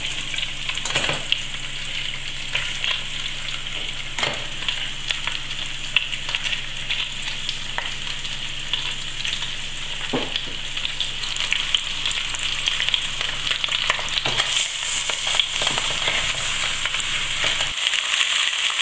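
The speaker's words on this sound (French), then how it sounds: "Lorsque votre huile est bien chaude, faites dorer les morceaux de chaque côté pendant une dizaine de minutes." Rabbit pieces sizzle and fry steadily in hot butter and oil in a thick-bottomed pot, a continuous close crackling hiss with occasional stirring clatters and no talk.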